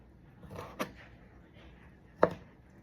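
Cooked pork for Filipino sisig, including pork belly, ear and liver, chopped with a knife on a board: two sharp distinct chops close up, with quiet room sound between.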